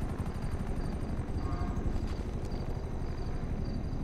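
Helicopter in GTA 5 roleplay passing overhead over a favela, a steady low rotor rumble with a rhythmic chop that holds throughout at moderate volume, no voices.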